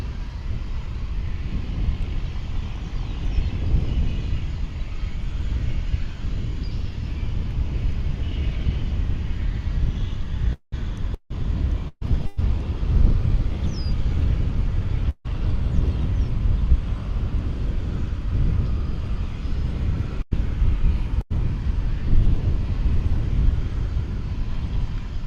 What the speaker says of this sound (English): it's American Airlines Flight 1576, a 737